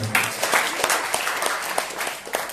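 Applause from a church congregation at a Family Blessing service in Kelapa Gading, Jakarta, a dense steady patter of many hands clapping at moderate volume throughout.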